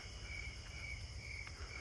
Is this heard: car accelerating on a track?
no